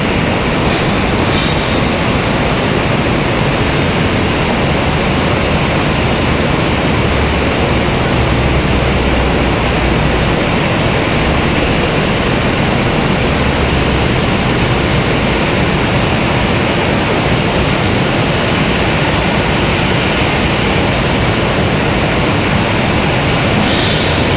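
A Boeing 737 airliner at Raleigh-Durham airport on a stormy day roars loudly and continuously, a dense broadband engine rumble filling the whole stretch without a break.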